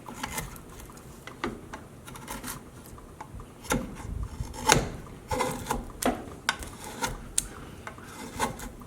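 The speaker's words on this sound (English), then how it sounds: "I'm still removing big chunks of wood with a pretty good size chisel here, or gouge" A good-sized chisel or gouge hacks big chunks out of a wooden base in a run of irregular rasping, scraping cuts of varying strength, close and alone with no talk.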